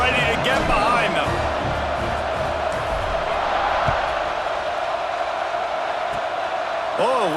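Stadium crowd noise from EA Sports College Football 26 before a kickoff, a steady roaring wash of many voices with scattered cheers that holds at a loud, even level throughout, while a commentator talks over it.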